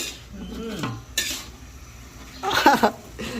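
Food stirred in a cooking pan outdoors, with brief scraping and clinking of a utensil against the pan between moments of quiet, close and moderately loud.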